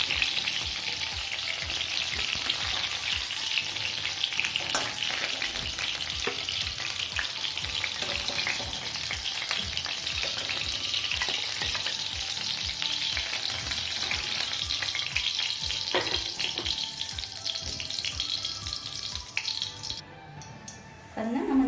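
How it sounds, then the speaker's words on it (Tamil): Eggplant sautéing in oil in a pan for a Tamil eggplant gravy, a continuous loud sizzle with stirring scrapes throughout, easing off briefly near the end. "கத்திரிக்காய் இது மாதிரி நல்லா வதக்கணுங்க. எண்ணெயிலேயே நல்லா வதக்கி எடுத்துக்கணும்"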